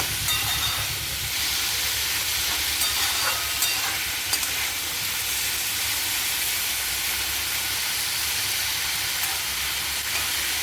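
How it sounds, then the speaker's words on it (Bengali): Dried chili powder fries in a pan, giving a steady, even hiss of sizzling oil that carries on unbroken and fairly loud for the whole stretch, with no voices over it. "একটু লঙ্কার গুঁড়ো দিচ্ছি শুকনো লঙ্কার গুঁড়ো একটু ভাজা ভাজা হবে"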